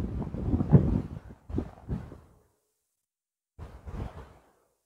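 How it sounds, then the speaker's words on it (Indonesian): Wind buffets a microphone on a seaside hill above the ocean, coming in two heavy rumbling gusts with a silent pause between them, close and loud with no talk. "suara angin ya"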